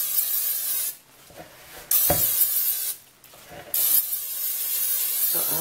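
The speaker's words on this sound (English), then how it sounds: "I'm just going to spray it with Pam" Two long, loud hissing bursts from an aerosol can of cooking spray, close up, separated by brief pauses with faint clicks and handling noise.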